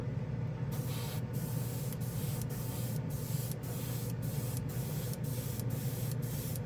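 Mecha Empire polished alloy paint sprayed from a can over colored surfaces, a steady close hiss broken by short pauses at a regular rhythm, with no talking.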